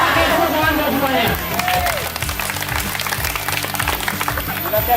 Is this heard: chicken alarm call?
no